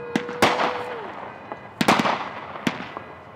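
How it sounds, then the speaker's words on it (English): Fourth of July fireworks and firecrackers burst in a residential neighborhood, several sharp loud cracks and pops spaced irregularly with a whistling rise near the start, echoing and fading between bangs. "You can't say 4th of July without fireworks. And even if you can't see them, you can sure hear them."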